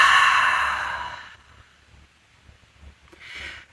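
A long, deep exhale released after a held breath during a guided breathing exercise, loud and breathy at first and then fading over about a second and a half, followed by quiet and a shorter, softer breath near the end.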